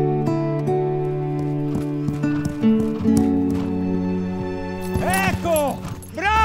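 A horse neighs loudly near the end while hooves clip-clop, set against a music score; a voice may speak briefly over it.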